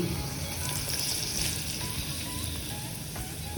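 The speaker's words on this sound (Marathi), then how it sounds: "ही चुरचुरीत फोडणी." Tempering (phodni) crackles in hot oil over freshly chopped raw onion while radish vadas are being prepared, a dense continuous sizzle and frying hiss at close range.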